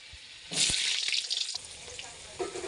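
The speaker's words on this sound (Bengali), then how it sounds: "তেলে আলুগুলো ভেজে নেব আগে" Potatoes go into hot oil in a pan while cooking a chicken curry with potato and yogurt, setting off a loud burst of sizzling that fades to a softer, steady fry.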